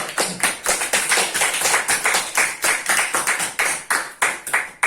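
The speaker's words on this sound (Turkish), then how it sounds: "Buradan herkese alkışlıyoruz. Alkış." Audience clapping at a family reunion celebration, a steady run of hand claps with a few distinct sharp bursts, fairly close and loud, with no talking over it.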